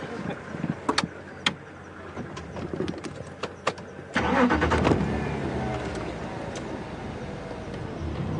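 A safari vehicle's engine cranks and catches on a game drive at Djuma Game Reserve, settling into a steady mid-pitched idle after a few seconds, preceded by sharp clicks of switches and birds calling faintly in the background.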